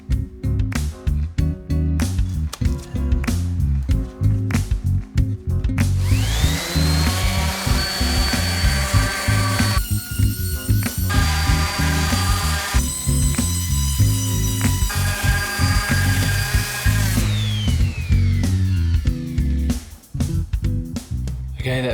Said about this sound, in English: what I'm going to use is my electric sander